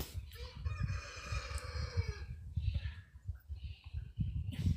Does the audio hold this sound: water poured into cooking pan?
no